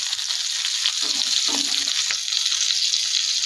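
Prawns frying in a pan as the second side crisps, a steady bright sizzle close up with a faint brief clink partway through.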